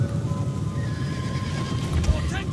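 Horses in the Total War: Attila battle scene neigh over a busy wash of combat noise and hoof clatter, with speech also present.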